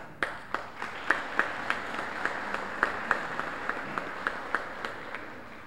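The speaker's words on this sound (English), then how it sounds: "you have to give yourself a round of applause for being here today" Scattered audience applause at an all-star awards event for high school athletes: a small crowd claps with sharp, distinct individual claps at a steady rhythm, moderately close and fairly quiet.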